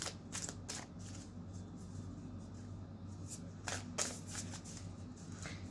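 A deck of Moonology oracle cards being shuffled close by, with soft riffling and sliding bursts, a few sharper card slaps near the start and around four seconds, over a steady low hum.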